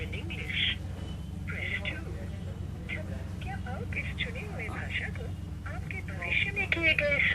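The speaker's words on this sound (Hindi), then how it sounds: "कॉलिंग हम लगा के देख लेते हैं। ये देखिए कॉलिंग भी हो गई।" Call tones from a repaired Samsung M002 mobile phone, with short tonal beeps and ring signals repeating over a low electrical hum while someone talks throughout.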